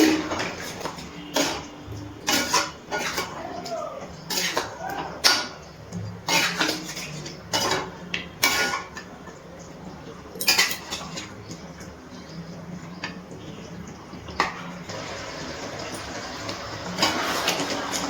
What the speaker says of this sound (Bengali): এবার এই কড়াইয়ের মধ্যে এটা ঢেলে দিচ্ছি। খুব ভালো করে সব কিছু নাড়াচাড়া করে আরও একবার একটুখানি ফুটিয়ে নিচ্ছি।